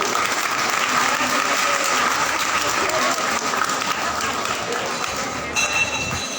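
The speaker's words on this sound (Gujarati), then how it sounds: "એમના માટે જોરદાર તાળીઓથી સ્વાગત બિમલાબેન ઝવેરભાઈ વોરા." Loud, sustained applause from a gathered crowd, dense clapping that fills the room evenly and eases slightly toward the end.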